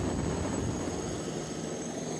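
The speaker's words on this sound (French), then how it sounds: "Franck Genozo, vous êtes toujours à bord de l'hélicoptère Tigre." A Tigre military helicopter hovering during a French special forces operation, a loud, steady roar of rotor and engine filling the whole stretch without a break.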